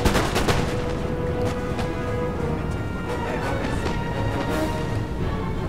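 Musket volleys crackle in a Napoleon: Total War battle, with dense overlapping gunfire bursts over continuous battlefield noise and distant booms, loud and steady throughout with no clear speech.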